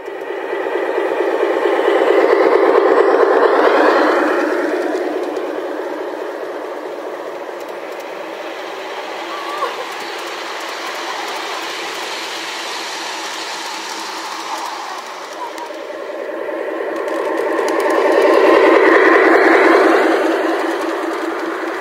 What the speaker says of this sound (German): wobei irgendwo herumliegende Panzermotoren hörbar für entsprechenden Vortrieb sorgten